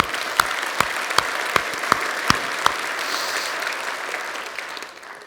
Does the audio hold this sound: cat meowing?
no